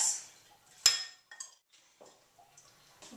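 A sweet potato salad is stirred in a bowl with sunflower seeds, making a few quiet, sparse clinks and taps of a utensil against the dish, with one sharper knock near the start.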